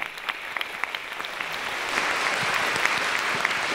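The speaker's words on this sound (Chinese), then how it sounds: "我们一起鼓掌啊" An audience at a university welcoming event for a Kunqu opera lecture breaks into sustained applause, many hands clapping densely and steadily, growing slightly louder partway through, with no voices over it.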